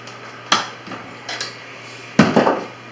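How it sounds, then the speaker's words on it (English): A flat bar and putty knife prying quarter round trim off a wall during an older home window rehab, heard as a few sharp metallic clinks and scraping knocks spaced apart over a steady low hum. "So I like to use a flat bar with the putty knife"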